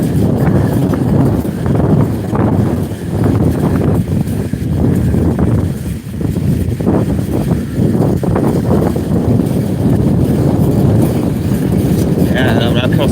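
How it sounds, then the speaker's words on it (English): Steady, loud wind rush buffets the microphone while cycling uphill into a headwind, a constant low roar filling the whole stretch. "Even if we're going against the wind like we are now, we'll try and maintain our speed."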